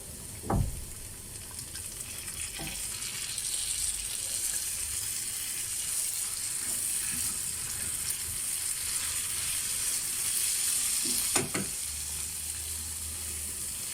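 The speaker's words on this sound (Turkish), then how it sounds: "Şöyle hazır domates sosu var arkadaşlar. Ondan koyuyorum." Ready-made tomato sauce going into a pan of sizzling lasagna sauce, heard as a constant close frying hiss with a couple of sharp clinks near the start and end.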